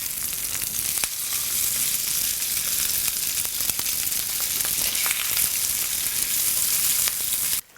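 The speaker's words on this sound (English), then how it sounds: "It's that sizzle." Livermush sizzles and crackles steadily in a hot pan, loud and close, with a few sharp pops and spatters and no voices.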